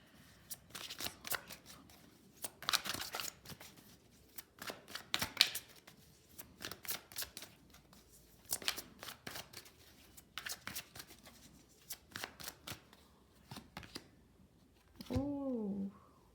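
Angel tarot cards being shuffled in repeated soft riffling bursts, close and moderately quiet, with a brief voiced sound near the end.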